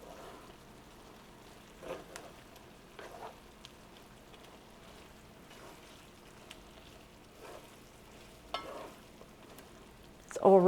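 Soft sizzling and frying with intermittent scraping stirs as garlic shrimp pasta with parsley is turned in a pan, fairly quiet and close, ending with a louder clatter.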